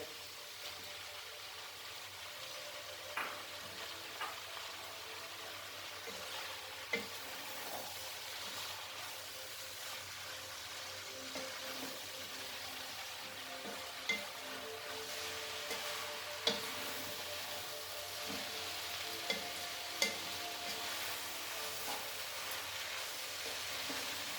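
Singapore noodles with pineapple cook in a pan with a faint, steady sizzle, broken by occasional soft ticks and taps from stirring, quiet and close with no talking.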